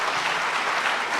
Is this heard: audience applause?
yes